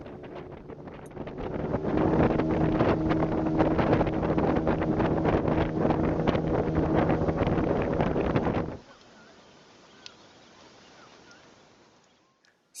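Outboard motor on a pirogue traveling the Sepik River drones steadily up close under wind buffeting on the microphone, then cuts away abruptly to quiet background.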